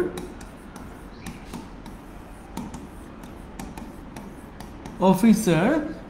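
A teacher writes on a board during an English class, making sparse taps and short scratchy strokes at irregular intervals, close and moderately loud, with a voice speaking briefly near the end.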